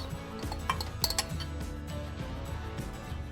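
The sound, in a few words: spoon stirring yogurt with garlic, salt and olive oil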